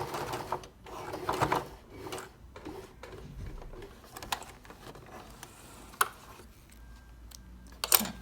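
A sewing machine stitching a facing to a jacket neck in short, patchy bursts of mechanical whirring and ticking, fairly close and moderately quiet, with pauses between runs.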